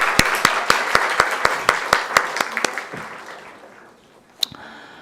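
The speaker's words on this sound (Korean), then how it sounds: "다시 한번 두 자매에게 감사 박수드릴까요?" A church congregation claps during a Sunday service, sharp, evenly spaced claps in a steady rhythm that gradually fade out, followed by a single late clap.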